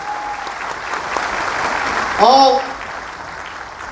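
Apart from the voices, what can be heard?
audience applause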